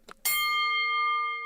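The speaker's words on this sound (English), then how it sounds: "Did we get the bell?" A bell rings once at the opening of a live MMA news show, a bright clang that sustains with a long, steady ringing tone after a brief noise.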